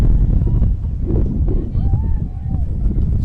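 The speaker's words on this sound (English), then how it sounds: "as the wind picks up again" Gusty wind buffets an open softball field on a hot afternoon, a steady loud roar and rumble across the microphone with a faint voice and crowd murmur underneath.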